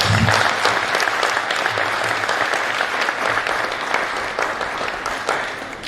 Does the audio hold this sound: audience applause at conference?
yes